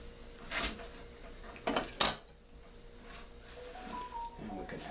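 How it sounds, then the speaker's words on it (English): A knife chops cattail stalks on a board, three or four sharp close cuts in quick uneven succession, then a quieter stretch with faint handling noises and a brief voice. "We can just kind of loosely chop these."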